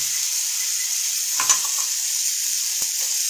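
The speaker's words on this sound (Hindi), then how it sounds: "अभी ये जैसे ही सौते हो तुरंत हम लोग इसके अंदर अनियन ऐड कर देंगे" Onions sauté in a pan for gravy with a steady, bright hiss of frying oil, close and continuous, broken by a couple of brief clinks of a spoon.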